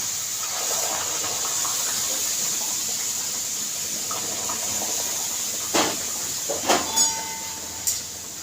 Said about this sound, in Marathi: आता हे पाणी हळूहळू ह्याच्यात टाकते हळूहळू टाकायचा